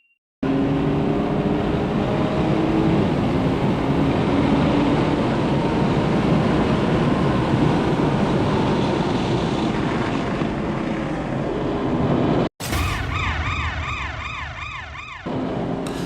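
A B9 Audi S5 lapping the race track at Barber sends out a loud, sustained engine drone with a whining pitch. Near the end the sound cuts briefly, then returns with a shifting, wavering tone.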